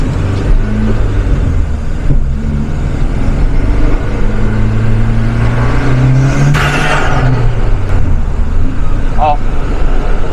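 A Volkswagen Golf with a suspected loose turbo hose is heard from inside on a road test, with a steady engine drone rising and falling through gear changes under road noise.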